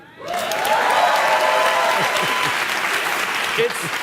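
An audience claps and cheers at a talk by Andrew Yang, a dense, loud burst of applause that swells within a moment and holds steady throughout, with a few voices rising out of the crowd noise.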